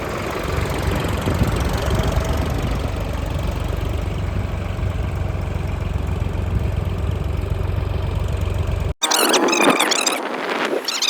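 A Sonalika DI 50 tractor engine runs close by at a loud, rough, knocking idle for about nine seconds, then the sound cuts abruptly into a brief burst of different, squealing noise.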